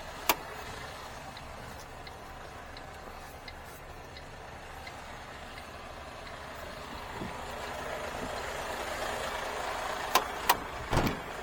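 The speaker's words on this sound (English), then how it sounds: "Leaving engine running to build up a bit of air." An HGV Class 1 truck idles with its engine running to build up air, a low steady rumble that swells slightly toward the end, with a few sharp clicks and knocks at the start and close to the finish.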